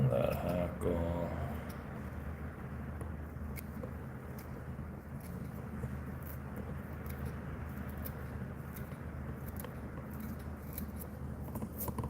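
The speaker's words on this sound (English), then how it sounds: "Trimming around that hackle." Small scissors trimming hackle while tying a small CDC fly, with faint crisp snips scattered through a steady low hum of room noise, quiet and close.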